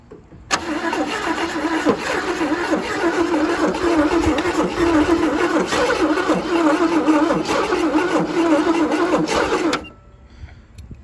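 A 1977 Chevy Camaro with a suspect carburetor cranks briefly and then catches, running with a loud, steady, rough idle for about nine seconds before cutting off, with no talk.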